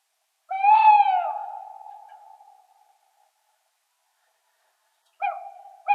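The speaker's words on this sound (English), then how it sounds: "OWL. Owl." An owl gives a clear, resonant hoot that rises and trails off slowly, followed after a pause by the start of a second hoot, close and alone against silence.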